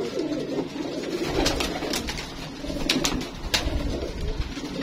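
Pigeons coo steadily and close by, a flock's soft overlapping calls running throughout with brief sharper chirps and flutters.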